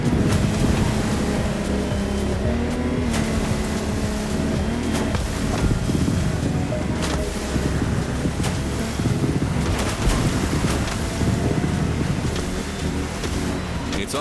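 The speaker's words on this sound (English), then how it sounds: "This time we're going offshore with way bigger boats, including the incredible Lamborghini Technomar." Offshore speedboats race across a turbulent sea in The Crew Motorfest, engines droning beneath heavy wind rush and crashing waves, with repeated slaps of hull against water throughout.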